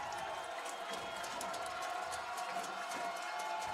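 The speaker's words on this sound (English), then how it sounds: "Crowd making some noise here in Bethany." A football crowd in the stands at Bethany makes a steady, distant roar of noise under a commentator's voice, with no clear peaks of cheering.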